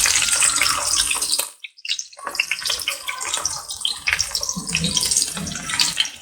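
Sliced onions dropped into hot oil with cinnamon, cloves and cardamom for a village-style chicken curry, a loud crackling sizzle that cuts out briefly, then returns with bursts of spitting and bubbling.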